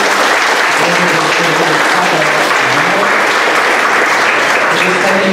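A church congregation at a Sunday celebration service claps loudly and steadily for its teachers, a dense wash of applause with a low voice or organ tone drifting beneath.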